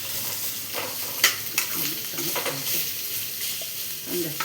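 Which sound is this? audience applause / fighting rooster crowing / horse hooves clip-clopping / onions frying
onions frying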